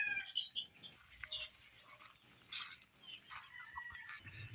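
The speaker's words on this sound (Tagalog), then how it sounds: "unahin muna natin magpakain sa ating mga alagang manok" Pet chickens being fed cluck and chirp in scattered bursts, mixed with light rustling and a few flutters, at moderate distance.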